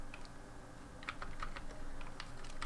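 Quiet, irregular keystrokes clatter on a computer keyboard as code is typed, with scattered light clicks and short pauses and no voices.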